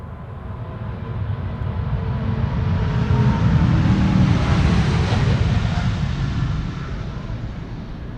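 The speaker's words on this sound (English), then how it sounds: "This is a 777-200 coming this way." Departing KLM Boeing 777-200, an 18-year-old airliner bound for Atlanta, roars loudly at Amsterdam Schiphol Airport, its deep engine growl building to a peak around midway and then easing slightly as it passes.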